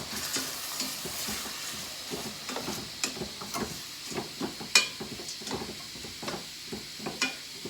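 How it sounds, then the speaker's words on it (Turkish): Lentils with grated carrot and potato sautéing in a pan: a steady soft sizzle with repeated scraping stir strokes from a utensil, close and fairly quiet, with no talking. "Havuçla patatesle rendeledim. Böyle güzel kavuracağım."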